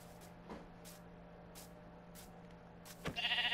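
Sheep bleating in the Minecraft video game, a few short separate bleats spread over a few seconds above a low steady background hum, followed by a brief louder burst of game sound at the end.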